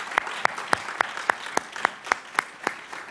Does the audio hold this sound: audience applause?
yes